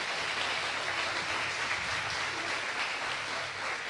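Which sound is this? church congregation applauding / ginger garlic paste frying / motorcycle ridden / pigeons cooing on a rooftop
church congregation applauding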